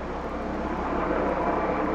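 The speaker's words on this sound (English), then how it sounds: "See the helicopter chasing him down the backstretch here, Milty." A helicopter flies over the Talladega backstretch in a Winston Cup stock car racing game, a steady, loud rotor and engine drone that holds evenly throughout with no talk.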